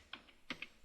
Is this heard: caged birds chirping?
no